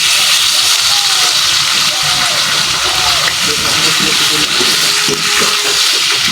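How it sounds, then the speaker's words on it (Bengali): Kohlrabi dropped into hot oil for a village-style spicy chicken curry, giving a loud, continuous broadband sizzle and hiss that runs unbroken throughout, with faint speech underneath. "তেল গরম হয়ে গেছে, তেলের ভিতরে যে কপিটা দিয়ে"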